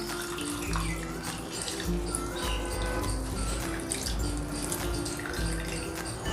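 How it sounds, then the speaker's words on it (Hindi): Water runs and splashes as whey is squeezed and rinsed out of chhena (paneer) for mango kalakand. The flow is continuous, with irregular drips and gushes close by and no talking. "तो हम इसका पानी अच्छी तरह से निकाल देते हैं।"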